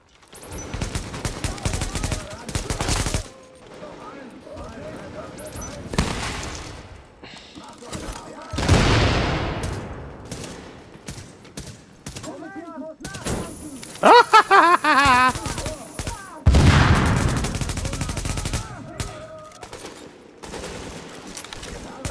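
Gunfire in the video game The Division, with repeated bursts of automatic fire, sharp single shots and heavy thuds spread across the stretch, mixed with game sounds and occasional talk.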